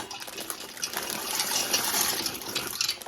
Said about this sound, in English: Okay, you're going to add 16 ounces of pasta.